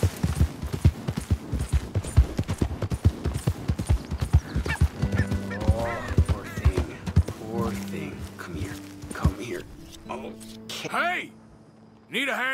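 Horse hooves clip-clop in a fast, even rhythm in Red Dead Redemption II, then slow as the horse whinnies and snorts several times, with game voices and a closing whinny near the end.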